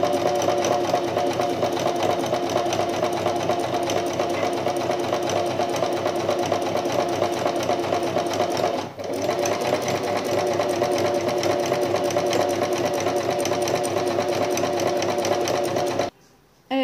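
A sewing machine runs nonstop stitching the lining of an oval beach bag, a loud close whirring drone with a fast steady mechanical rhythm, one brief dip midway and a stop right at the end.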